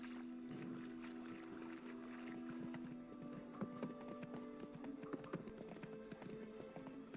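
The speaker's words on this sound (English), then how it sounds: "Let's hop back on the horses." Horse hooves clip-clop steadily in The Witcher 3: Wild Hunt as riders travel, a rhythmic trotting patter over a droning in-game ambient score, with faint hints of other game sounds around it.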